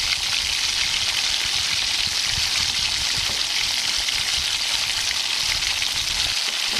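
Mustard seeds and red shallots sizzle and fry in hot coconut oil, a steady dense crackle throughout with no pauses, close and fairly loud.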